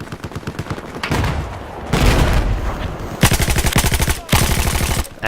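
Rapid bursts of MG4 machine gun fire in a multiplayer shooter game, loud and close, with dense rattling volleys separated by brief pauses, including a reload.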